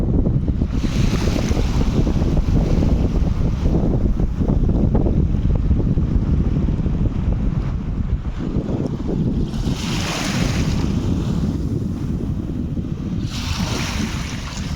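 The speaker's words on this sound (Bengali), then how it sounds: "অনেক বাতাসের গতিতে ঢেউগুলো ভেসে আসতেছে, পায়ে আঘাত দিচ্ছে, পায়ে আছড়ে পড়ছে আমার পায়ে।" Sea waves pushed by strong wind wash in and break around feet at the shoreline on a sunny day, a steady loud roar of surf and wind buffeting with two bigger surges near the end.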